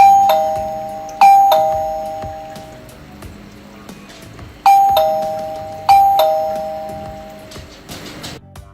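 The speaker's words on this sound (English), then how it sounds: "Here we will check out the doorbell chime that comes along with the Laxihub B1 doorbell camera." A two-tone electronic doorbell chime from a Laxihub B1 doorbell camera rings four times in two pairs, clear and close, with quiet room noise between the rings.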